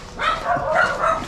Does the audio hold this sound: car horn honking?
no